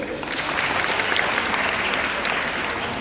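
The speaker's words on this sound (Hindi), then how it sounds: "ताली बजाइए इसके लिए" An audience at an educational seminar breaks into dense, sustained applause, many hands clapping together at a steady loudness for about three seconds, with no talking over it.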